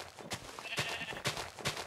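Sheep in the Minecraft video game bleat several times in a row, clear, repeated calls with short gaps, and faint voices underneath.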